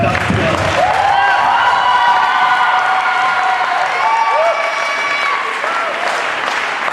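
Audience at a poetry slam breaks into loud applause and cheering, dense clapping with whoops and shouted voices rising over it, sustained and close, then easing slightly toward the end.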